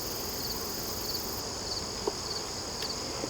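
Honeybees and yellow jackets buzz around a beehive in a steady, unbroken drone, close and constant, with a faint tick or two over the hum.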